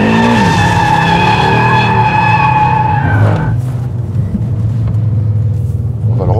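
Tires on a 2022 Audi RS3 squeal loudly and steadily while cornering hard under acceleration, the high whine fading after about three seconds and leaving a rumbling engine and road noise.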